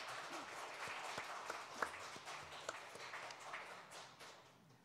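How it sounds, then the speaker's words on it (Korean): A congregation clapping in a church service, a faint, somewhat distant patter of applause with scattered sharper claps, tapering off near the end. "예, 박수를 한번 크게 치십시오."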